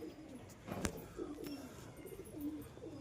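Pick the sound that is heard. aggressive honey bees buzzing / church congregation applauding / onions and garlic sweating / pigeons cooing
pigeons cooing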